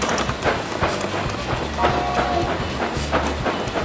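Clickety-clack rolling of a train in a train museum, with a steady rhythmic rumble and repeated wheel clacks that carry on throughout at a fairly loud level.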